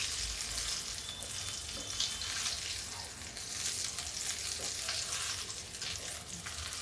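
Homemade chips and guar-bean and curry-leaf bhajiya fry in hot oil in a kadhai, giving a loud, continuous close sizzle that crackles and bubbles steadily, with no talking.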